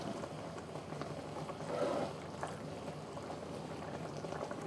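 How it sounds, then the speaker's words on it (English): Pork steak onion gravy sauce simmering hard in a pan, a soft continuous bubbling hiss with a brief louder swell of gurgling midway, no talk. "while the sauce is simmering, because it's simmering quite a lot right now"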